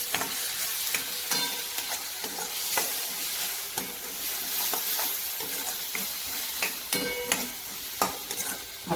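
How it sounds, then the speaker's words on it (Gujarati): Crushed ginger and garlic fry in a pan for paneer butter masala, giving a steady sizzle broken by frequent scraping and stirring clicks, close up with no talking. "આપણે આદુ અને લસણને એકદમ ઝીણું ક્રશ કરીને લીધું છે એને આપણે આની અંદર એડ કરી દઈશું"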